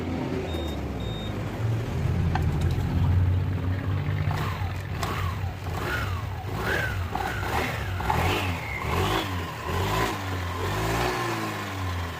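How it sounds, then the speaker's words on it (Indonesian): Motorcycle engine is started and revved in a workshop clutch check, a steady mid-pitched idle rising into repeated throttle blips, fairly close with a faint background hum. "kita tes dulu dengan menghidupkan mesinnya"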